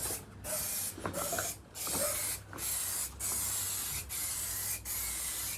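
Aerosol spray paint hisses onto an alloy wheel in a series of short, steady bursts with brief pauses between passes, close and fairly loud.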